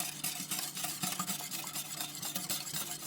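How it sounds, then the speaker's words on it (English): Sugar is stirred by hand into a custard mixture in a bowl, a close, steady run of rhythmic swishing and scraping strokes with no talking. "what I'm doing here is trying to incorporate that sugar in so it dissolves"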